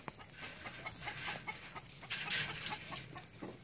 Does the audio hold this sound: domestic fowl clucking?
yes